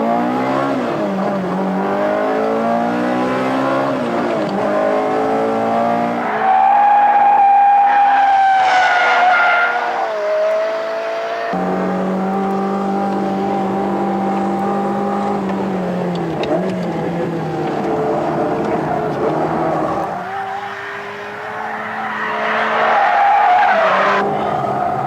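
A 400-horsepower 1999 Ferrari 360 Modena drives hard, its engine loudly rising and falling through gear changes while the tires squeal and skid, close and without talking.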